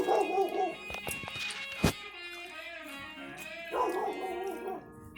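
A hunting dog barks at a raccoon in quick excited bursts with yips and whimpers, close and fairly loud, broken by brief pauses.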